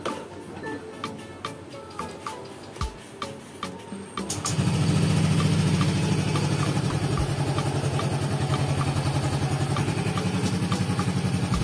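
A Yamaha Fazzio scooter sits quiet under a few soft ticks, then its engine starts and settles into a steady, even idle for several seconds, close and fairly loud.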